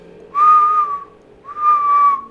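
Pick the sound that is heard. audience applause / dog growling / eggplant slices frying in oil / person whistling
person whistling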